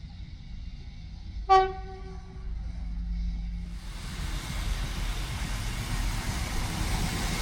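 A train arrives at a station: one short horn blast sounds, then the rumble and wheel noise swell as the train rolls in and slows, growing steadily louder.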